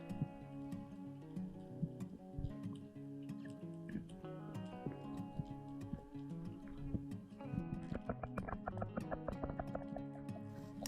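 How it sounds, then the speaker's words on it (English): Sharp tongue clicks against the roof of the mouth repeat in quick irregular bursts, muffled and watery, over a steady low drone recorded underwater on a shallow reef. "That sound you hear is a clicking of my tongue on the roof of my mouth"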